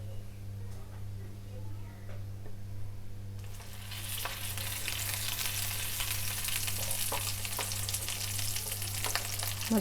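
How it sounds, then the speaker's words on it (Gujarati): Stuffed green chilies fry in oil over a low gas flame, a steady broadband sizzle that swells louder after a few seconds and continues with small crackles and occasional stirring sounds, close and without speech. "હવે એના પર ભરેલા મરચાં રાખીશું અને ગેસની ફ્લેમ લો રાખી અને મરચાંને ચડવા દઈશું।"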